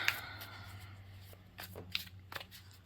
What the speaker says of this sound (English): how I love to pull cards like this